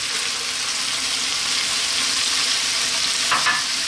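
Onion dropped into hot oil in a pan for South Indian lamb curry, giving a loud, steady broadband sizzle with stirring that runs throughout, no talking.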